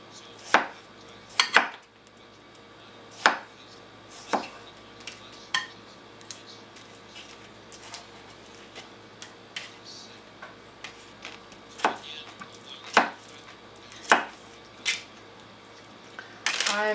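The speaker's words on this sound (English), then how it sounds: "Chop it up." A knife chops sushi ingredients on a cutting board in sharp, irregular single strikes, some in quick pairs, spaced over a quiet room background with no talking.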